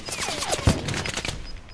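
Rapid automatic gunfire in Call of Duty Warzone, a quick burst of close shots over a short moment, with dense crackling.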